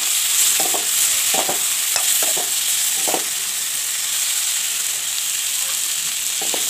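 Chicken pieces frying with spices in a pan give a loud, constant sizzle and hiss, broken by a few short scraping stirs near the start and again toward the end.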